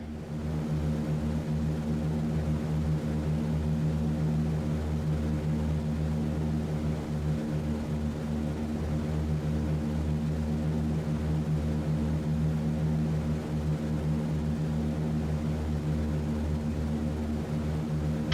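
A multi-engine propeller drone from a B-17 bomber in a flight video game holds a steady, loud, unbroken hum with deep harmonic throb and no talk over it.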